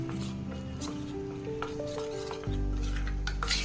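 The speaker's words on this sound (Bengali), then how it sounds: "আমি কাস্টার্ড নিয়েছি, এটাকে আমি অল্প অল্প জল দিয়ে ভালো করে গুলে নেব" Custard powder stirred with cold water in a bowl, a faint soft scraping and swishing of a spoon against the bowl, repeated in quick strokes with a low background hum.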